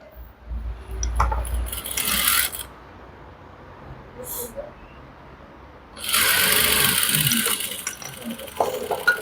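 Sewing machine stitching three stacked fabric pieces together along a layered neckline, running in two bursts of loud, steady whirring separated by a quieter pause with light handling noise.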